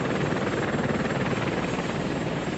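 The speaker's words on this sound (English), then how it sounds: "8 Apache helicopters laden with Hellfire missiles took off towards Iraq." An Apache military helicopter flying at night, its rotor throbbing in a steady, dense drone that stays constant throughout without any voices.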